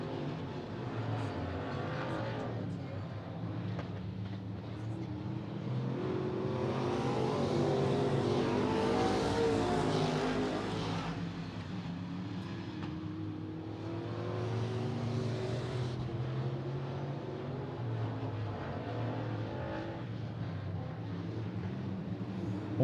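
Race cars at a night short-track event run single file through the turns, engines roaring steadily and swelling as the pack sweeps past, with a continuous loud drone throughout.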